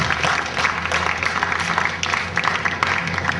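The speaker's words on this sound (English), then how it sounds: "let's give him a big round of applause, another applause" An audience gives a union president of SEIU 1984 a round of applause, a dense, even patter of many hands clapping steadily throughout.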